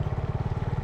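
A motorcycle out on a dirt road across the plain of Santa Isabel near Jalpa, Zacatecas, its engine chugging loud and close in a fast, even pulse of low throbs through the whole short stretch.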